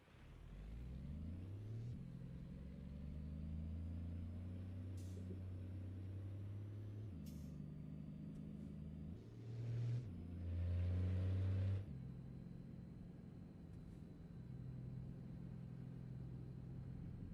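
An 800-horsepower semi truck accelerates in a trucking simulator, its deep engine droning and climbing through gear changes, with rising pitch steps and a louder surge near the middle before settling into a steady rumble.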